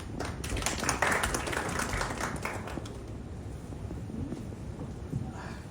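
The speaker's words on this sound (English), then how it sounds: "Let's give them a big round of applause." An audience at a medical talk on acute hypoxemic respiratory failure claps for the panelists, a brief burst of applause that is fairly full for about three seconds and then thins out and fades.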